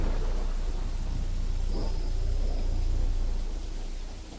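Thunder serves as a sound effect in a Spanish-language horror audiobook. It is a continuous low rumble under a steady rain-like hiss, fading slightly at the end, with no narration over it.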